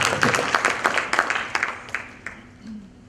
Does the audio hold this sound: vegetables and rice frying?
no